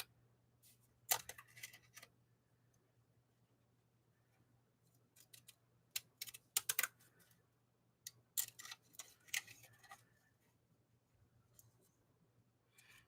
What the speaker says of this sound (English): these scissors that I'm using here are Fiskars